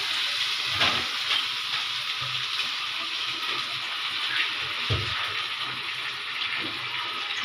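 Potatoes frying in an oiled pan while chicken karahi is being made, a steady broad sizzle that holds throughout with a few louder crackling bursts and faint stirring knocks.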